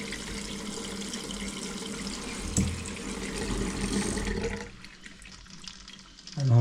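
A kitchen tap in Kenya runs with a steady, fairly loud gush of water. The flow cuts off about two-thirds of the way through, leaving faint room noise behind.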